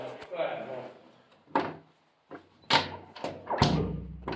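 A small hidden tiled-wall door is opened and shut several times, producing sharp knocks and thuds, with a person speaking in between.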